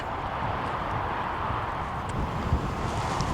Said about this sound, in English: Apart from that bloody wind, that is going to be a pain in the arse this afternoon.